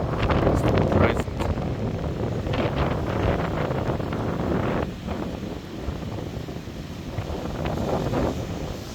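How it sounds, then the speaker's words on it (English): Strong wind during a coastal storm buffets the microphone with a loud, continuous roar and gusty surges, with surf rumbling underneath and no clear talk. "Okay, you can still hear the wind. It's still present."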